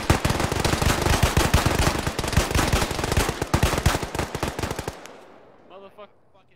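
Dense automatic gunfire from the military video game Arma, with rapid close bursts overlapping for about five seconds before cutting off abruptly, leaving a faint tail and a brief murmur of voice.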